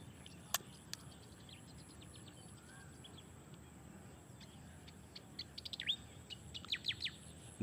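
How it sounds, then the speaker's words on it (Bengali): Birds chirping and calling at sunset, scattered short tweets that grow busier and louder toward the end over quiet outdoor background. "নীরবে পাখির ডাক শুনেন"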